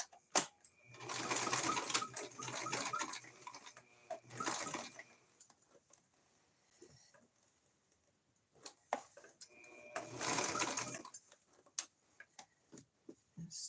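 Sewing machine running a straight stitch on coaster fabric in bursts: a short run, then a second longer run, with ticking pauses between and a final short run near the end.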